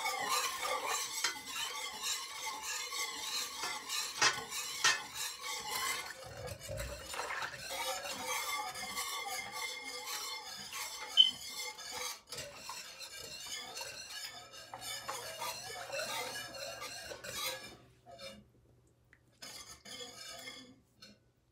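Coconut majarete mixture made with rice flour, butter and vanilla paste is stirred in a pot, giving steady scraping and clinking of a utensil against metal with a faint sizzle, close and continuous, with one sharp knock midway.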